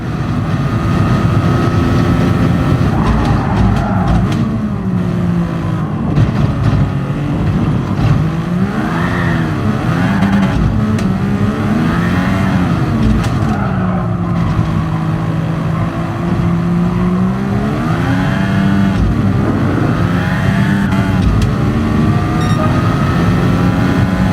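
A classic Formula 1 car racing at the Nürburgring GP circuit in GT Sport, its loud high-revving engine screaming continuously, pitch rising and falling through gear changes, with no talk.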